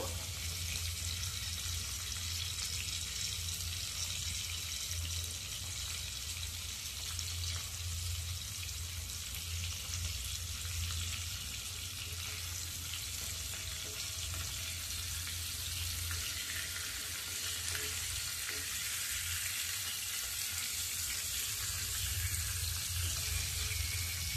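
Salted dried fish fries in a pan, giving a soft continuous sizzle and crackle that stays steady and fairly faint throughout, with no talking.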